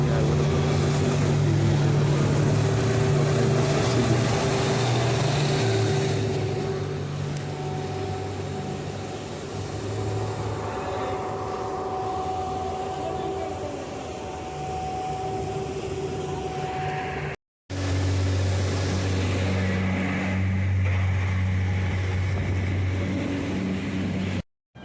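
A ship's engine drones steadily at night, a loud, near, low hum that holds for the whole stretch with only a brief cut in the middle, with faint speech now and then.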